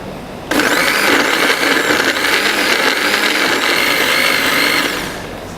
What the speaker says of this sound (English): blend the red onion and dry chilies finely using a blender